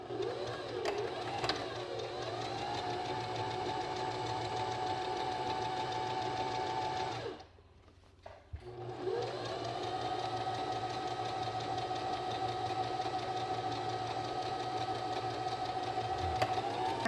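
A regular sewing machine runs steadily, zigzag stitching across the seams of a men's Hawaiian shirt being cut into a crop top, with a constant whirring hum, a brief pause midway, then continuing.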